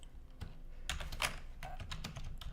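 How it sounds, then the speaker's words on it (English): Computer keyboard typing, a quick irregular run of clicky keystrokes close by, fairly quiet, with no talking. "Do you guys all enjoy the sound of my keyboard typing?"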